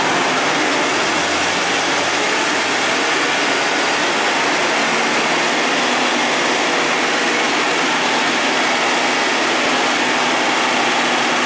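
A Jeep 4.0 engine held at a raised RPM, a steady dense roar that stays loud and unbroken for about eleven seconds with no talk.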